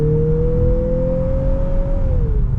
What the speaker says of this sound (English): Engine sounds good too. You can hear a little bit of turbo whine as well.